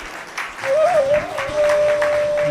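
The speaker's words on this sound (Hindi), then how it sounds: "ताली कमजोर बजी है, इसका मतलब बात समझ में नहीं आई।" An audience at a religious discourse gives weak, scattered clapping that stays fairly soft. A tonal voice or instrument note runs over it.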